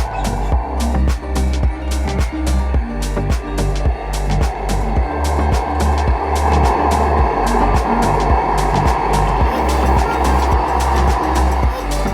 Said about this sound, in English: Forge is lit.